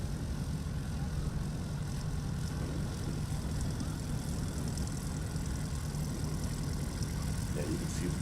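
A STOL aircraft makes a short-field takeoff at a competition in Gallatin, Tennessee, its propeller engine roaring steadily and loudly the whole time, with some talk faintly underneath.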